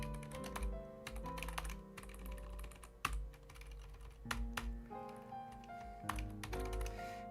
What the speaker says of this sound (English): do let me know if my keyboard is too loud